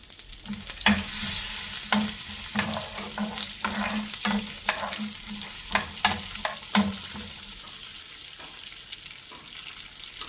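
Two or three dried chillies roasting in a pan for a roasted-gram chutney, a close steady sizzle with repeated sharp scraping stirs and a low hum underneath, no talk.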